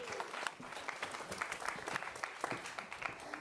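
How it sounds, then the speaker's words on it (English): Audience applause for performers returning to the stage at a live music event, a dense, steady wash of many hands clapping with a few louder individual claps, sustained throughout. "Give them a round of applause."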